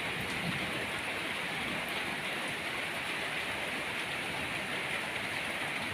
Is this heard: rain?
yes